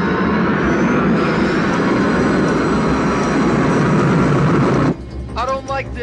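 Jet engine roar from MiG-29 fighter aircraft in the YS Flight simulator, a loud, steady wash of noise that holds for about five seconds and then cuts off abruptly, leaving quieter background sounds with a brief tonal chirping at the end.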